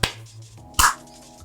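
A single sharp hand clap rings out close and loud, following a softer click at the start, with a short tail and no talk.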